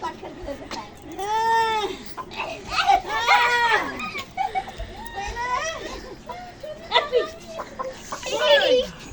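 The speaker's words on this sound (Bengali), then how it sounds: "ওই তো কক কক করে কোথায় কোথায়" Chickens cluck and squawk repeatedly nearby, interspersed with excited voices of people talking and calling out.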